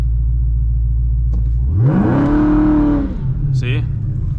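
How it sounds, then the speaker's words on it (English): A Chrysler 300 with a Hellephant engine idles with a deep rumble, then the revs climb sharply in one rising surge. The engine holds high for about a second before dropping back to idle. It is close and loud. "to launch, press brake and quickly apply full throttle"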